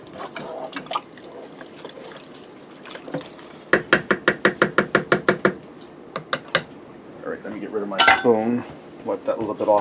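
A spoon stirs shredded cheddar into a ranch tuna casserole in a Ninja Foodi pot, with a quick run of about a dozen sharp, rhythmic metal clinks among scattered scrapes, and a brief voice near the end.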